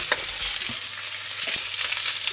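Bratwurst sears in a Dutch oven with a steady, close crackling sizzle, dotted with a few soft pops and spatters, and no voices.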